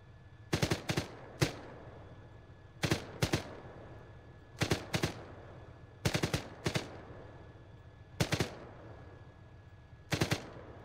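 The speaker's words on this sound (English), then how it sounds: "Just use the light machine gun here." A light machine gun in ARMA 3 fires short bursts of two to four sharp rounds, repeated at irregular intervals of one to two seconds over a low background hum.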